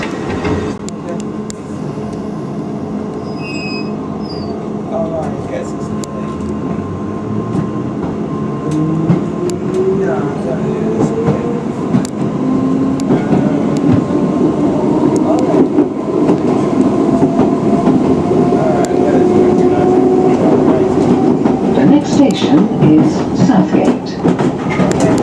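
A London Underground Piccadilly Line train runs from Heathrow Terminal 5 toward Cockfosters, its motors whining and rising in pitch as it accelerates over a steady loud rumble, with an onboard announcement heard early on.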